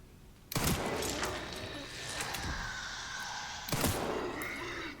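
Pistol shots in Resident Evil Requiem, two sharp loud cracks a few seconds apart over a rumbling, crackling game background.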